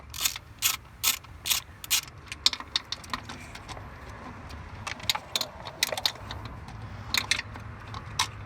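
A hand ratchet clicks in quick bursts while tightening the bottom bolt on the thermostat housing of a 2003 Volkswagen Passat 1.8T engine, rapid close metallic ticks starting and stopping in rhythm with no talking.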